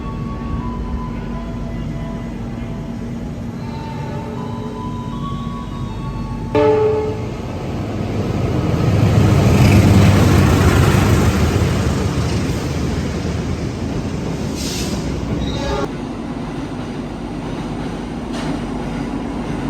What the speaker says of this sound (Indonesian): jalur 3 dari arah utara kereta api barang melintas langsung